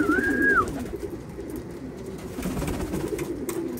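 Racing pigeons coo softly in a loft, one clear call at the start followed by low murmuring and faint background noise.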